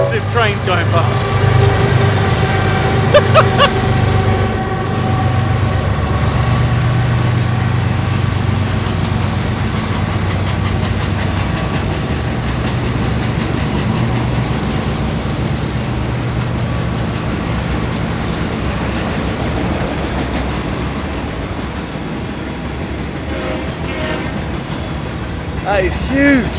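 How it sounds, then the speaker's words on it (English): A massive, long freight train passes beside old Route 66 in a loud, continuous rolling rumble that carries on steadily throughout, with a horn-like tone near the start and people talking over it. "massive trains going past."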